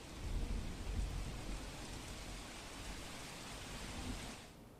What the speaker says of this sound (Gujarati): સુરત સહિત દક્ષિણ ગુજરાતમાં ધોધમાર વરસાદ વરસી રહ્યો છે